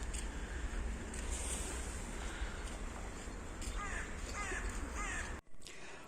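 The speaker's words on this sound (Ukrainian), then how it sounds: "І ворони каркають." Crows caw in a short series of harsh calls outdoors on a morning near a polyclinic, over steady wind-like background noise, with a brief cut near the end.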